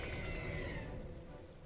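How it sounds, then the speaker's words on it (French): Rain summoned by Kyogre in a Pokémon video game falls as a steady, hissing downpour, dense and continuous, with a faint rumble beneath that eases slightly toward the end. "je vais faire tomber un peu de pluie pour vous témoigner mon amitié"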